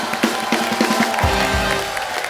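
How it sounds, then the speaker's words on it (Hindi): A studio audience at Kapil Sharma's stand-up show applauds and cheers for guests Bravo and Raveena, dense clapping with crowd noise throughout the short burst. "एक बार ब्रावो और रवीना के लिए जोरदार तालियां"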